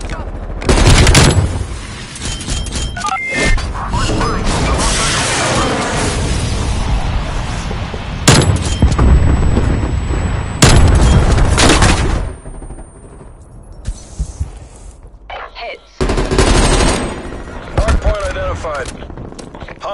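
Shotgun blasts and gunfire from a Call of Duty hardpoint match ring out in loud repeated bursts with explosive booms, mixed with in-game announcer lines and players talking over the shooting.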